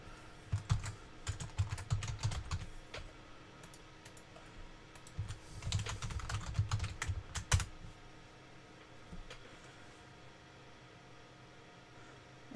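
Typing on a computer keyboard produces close, irregular bursts of key clicks in two clusters, then fades to quiet room noise.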